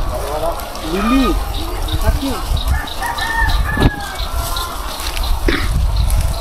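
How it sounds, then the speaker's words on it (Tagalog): Chickens at a poultry farm in Rosario, Batangas, clucking and crowing close by, with occasional wing flaps and people talking throughout. "gawa ng poultry po ito ng mga manok"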